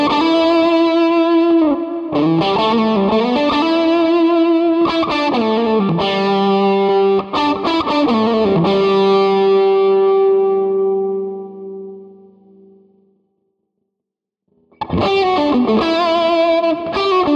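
Electric guitar played through a Quad Cortex capture of an original 2007 Hermida Zendrive V1 overdrive pedal, with gain and volume lowered. Warm driven chords and single notes ring out with sustain, fade to silence, then return with a fresh strum.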